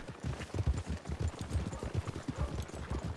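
Hooves of a Roadster horse in a Wild West role-play video game clip-clop at a steady, quick rhythmic gait, soft and low, with no talking over them.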